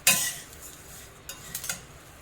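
Roasted coriander seeds are tipped from a pan onto a plate, with a sharp scrape and rattle at the start and then a few light clinks and skitters, close and fairly quiet.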